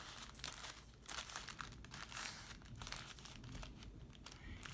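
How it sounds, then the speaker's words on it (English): Paper coffee filter being folded by hand, giving soft, close crinkles and light rustles that keep going without a break and with no voice. "Fold it in half again."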